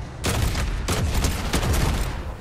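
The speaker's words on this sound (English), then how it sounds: "I shot him midair with the rifle." Rapid rifle fire in the Fortnite video game, a continuous burst of loud, close gunshots crackling and booming with no pause, in a Chapter 5 Season 3 squad battle royale match.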